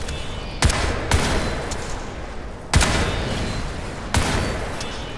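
Gunfire from weapons in the video game Crysis 3: four loud, sharp shots spaced out over several seconds, each followed by a noisy, ringing tail over steady background noise, with no talking.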